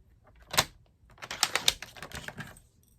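Paper trimmer slicing through cardstock for a Stampin' Up! fold card, heard as a sharp crisp snap followed by a quick run of close, clicky scraping blade strokes, loud and with no talking.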